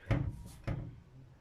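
Two solid door thuds about half a second apart, close by, from a classic Ford Escort panel van, the second one settling with a brief rattle, no talking.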